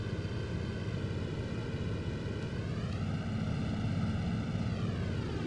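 The twin engines of a JU-88 bomber in the flight game IL-2 Sturmovik drone steadily and closely, a continuous low, throbbing hum with a slight pitch shift midway and no talk.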